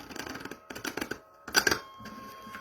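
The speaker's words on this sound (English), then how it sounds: "Well, that was a terrible shuffle." A deck of tarot cards shuffled by hand, with quick bursts of riffling and flapping card clicks in short clusters, close and separated by brief pauses, without talk.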